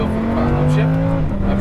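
Lamborghini Huracan engine on track, heard on-board, droning loud and steady through acceleration with rising pitch and a shift near the end, under an instructor's voice talking throughout.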